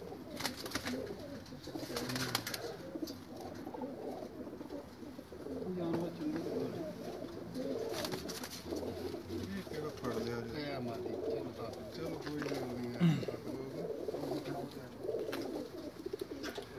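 In a pigeon loft in Perasteri, Greece, the birds coo in repeated low phrases throughout, mingled with nearby voices and general background noise.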